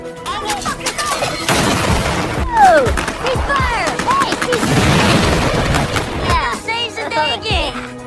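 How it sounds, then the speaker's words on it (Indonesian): Gunfire and mortar fire from a war film about US troops fighting the Taliban, with dense rapid shots and heavy blasts continuing under shouted voices and swelling music. "Kapten Keating yang mengetahui serangan itu memerintahkan pasukannya untuk segera menembakkan mortar"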